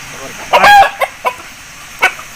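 Young aseel rooster, offspring of a seven-time winning fighting bird, gives a loud nearby burst of clucking and a short crowing squawk, followed by a few sharp single clucks.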